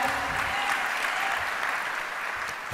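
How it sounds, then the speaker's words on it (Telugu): Church congregation clapping together in praise during a sermon, a dense steady wash of applause that holds throughout and ends with one louder close clap. "ఒకసారి చప్పట్లు కొట్టి దేవుని స్తుతిద్దాం"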